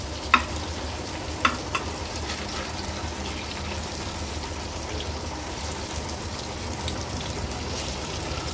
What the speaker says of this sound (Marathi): ह्याच तेलामध्ये मच्छी व्यवस्थित उलटपालट करून आपली तळली जाईल